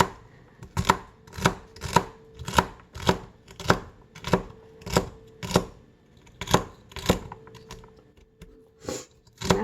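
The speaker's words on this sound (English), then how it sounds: "And then you just cut it into small pieces." A knife chopping celery into small pieces on a cutting board, a run of about sixteen crisp, evenly spaced close taps with a brief pause near the middle.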